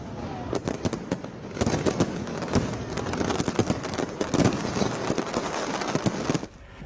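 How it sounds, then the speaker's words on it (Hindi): Dense, continuous New Year fireworks bursting and crackling for several seconds, with sharp loud bangs scattered through a constant roar of pops. "आतिशबाजी का शानदार नजारा दिखा।"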